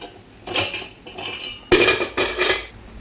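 A metal lid clanks onto a cooking pot of potol and prawn curry, several sharp clinks and scrapes in quick succession, the loudest near the end, in a quiet kitchen.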